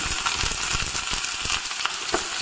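Garlic and onion fry in hot oil in a pan, giving a dense, steady, crackling sizzle that stays close and fairly loud throughout, with no voices.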